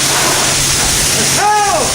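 Water spray rinses a mini bike, a loud steady close hiss throughout, with a brief voice near the end.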